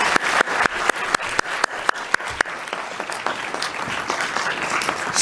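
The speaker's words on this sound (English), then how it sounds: "Can we give Professor Klasse another round of applause?" A symposium audience applauds a professor, with sharp individual claps early that thin and blend into a softer sustained patter, no voices over it.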